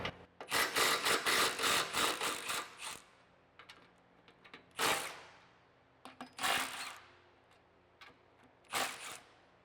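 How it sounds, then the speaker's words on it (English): A ratchet turns a 15mm deep socket on exhaust band clamp nuts under a 2015-2024 Mustang GT, giving bursts of rapid clicking and rasping separated by short quiet pauses. "grab a 15mm deep socket. We're going to loosen up, but not completely remove, the nuts on both of the band clamps"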